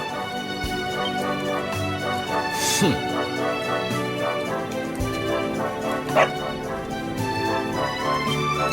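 In Dragon Quest XI, a dog barks several times in short yipping bursts that cut through background game music, with voices around them.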